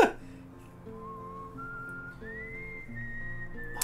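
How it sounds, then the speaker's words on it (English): Slow melodic whistling from the Wild Arms video game finale plays steadily with soft instrumental accompaniment, moderately quiet and without talk. "Oh, that music. That slow whistle."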